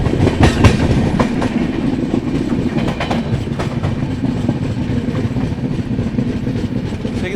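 The Uttar Sampark Kranti express train slows near Rajpura Junction, heard from inside a carriage as a steady rumbling roll with rhythmic clickety-clack of wheels over rail joints, continuous and fairly loud.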